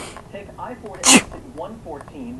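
A man's deliberately faked sneeze bursts out loud and sharp in the middle of steady spoken driving directions, a single exaggerated 'achoo' with talk continuing right before and after it.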